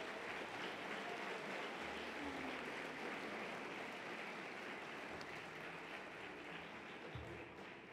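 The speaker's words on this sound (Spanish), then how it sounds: "Reiteramos este fuerte aplauso a estos distinguidos funcionarios." Sustained applause from the audience at an anniversary ceremony honoring distinguished officials, a faint, even, hiss-like wash of many distant hands clapping continuously throughout.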